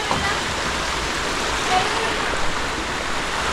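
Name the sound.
waterfall and flowing water in the rain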